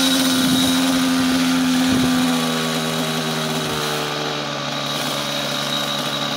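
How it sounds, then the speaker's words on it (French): A small model airplane glow engine buzzes loudly and steadily with a whirring propeller, its pitch easing slightly lower partway through. "le moteur est parti à l'endroit, en freinant l'hélice."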